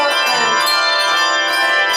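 Handbells ring in a bell choir class, a steady wash of sustained metallic tones filling the whole stretch, fairly loud, with no voices over it.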